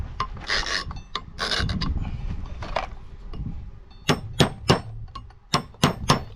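A metal tool scrapes and rasps against solid steel plate, roughly three-quarter to one inch thick, peeling off burrs in gritty strokes, then a run of sharp, close metallic taps and clicks in quick succession.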